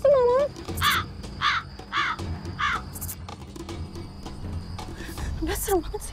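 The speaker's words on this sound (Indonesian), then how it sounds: "Kok ada suara gagak sih malam?" A crow caws repeatedly, four or five harsh calls in a steady rhythm, fairly close, with faint voices and background night ambience.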